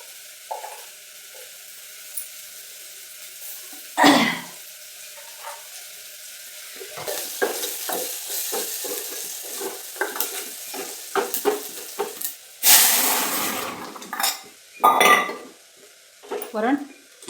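Crushed garlic hits hot oil in a home kitchen, with sizzling bursts, spoon scrapes and clinks of a pan coming in irregular spurts, louder toward the end.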